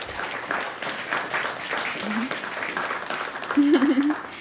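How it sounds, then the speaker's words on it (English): Audience applause for graduates at a Guide Dogs for the Blind class graduation ceremony, a steady moderate wash of clapping that swells slightly near the end, with brief voices mixed in. "let's give one more round of applause for all our graduates."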